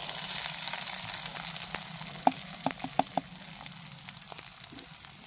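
Chopped green chillies and onions sizzle in hot oil in a new clay pot, a steady soft frying hiss broken by a few sharp pops and crackles, close by and with no voices.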